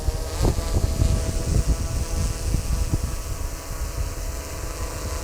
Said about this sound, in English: I'm going to make the drone come down to my hand.